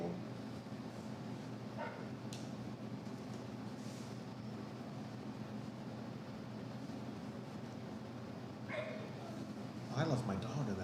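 A dog barks a few times near the end, faint and muffled under a constant rumbling background and people talking during an outdoor Kölsch beer tasting.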